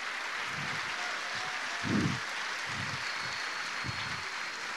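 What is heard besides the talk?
audience applause in church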